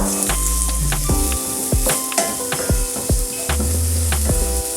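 Onion with green chillies sautés in a pan for a Kerala-style green peas curry, producing a loud, continuous sizzle broken by repeated spatula scrapes and knocks against the pan, with no voices.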